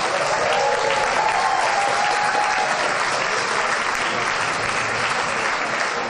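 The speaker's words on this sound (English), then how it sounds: "So please help me give them a round of applause." A festival audience at a St. Patrick's Day party gives a sustained round of applause for an event sponsor, dense and loud clapping from a crowd that holds steady for several seconds and tapers slightly at the end.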